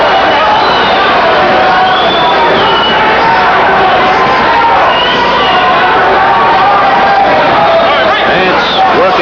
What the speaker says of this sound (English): The fans are booing him for the same reason